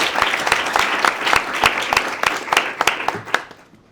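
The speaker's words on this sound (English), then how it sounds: "Round of applause." An audience at a panel event breaks into a round of applause, dense overlapping clapping with sharp individual claps standing out, steady for about three seconds before tapering off to quiet.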